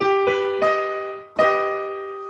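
An augmented chord, its notes plucked in a quick rising sequence and then struck together, ringing and slowly fading.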